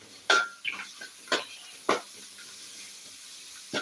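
Spoon scraping and tapping as semolina (rava) is stirred in a pan, a few sharp clinks spaced irregularly over quiet, soft gritty scrapes between them, close and fairly faint.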